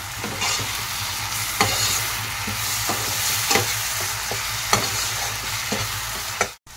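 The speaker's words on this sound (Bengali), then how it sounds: "পেস্টটা দিয়ে আমি এটা কষতে থাকবো।" Spice paste and tomato fried with salt in oil, stirred in the pan: a steady close sizzle broken by regular scraping strokes about once a second, ending with a sharp clatter.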